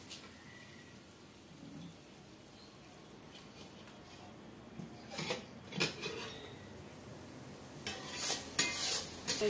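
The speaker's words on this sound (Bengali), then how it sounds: "জল এই মশলা নেড়ে নিলাম" Spice paste stirred in a pan with water for a fish curry: quiet scraping and clinks of a utensil against the pan, growing louder and more frequent toward the end, with a faint sizzle beneath.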